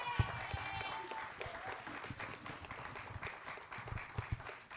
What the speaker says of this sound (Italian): Un applauso ancora!